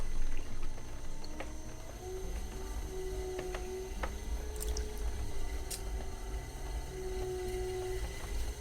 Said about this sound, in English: I didn't have any trouble centering that clay ball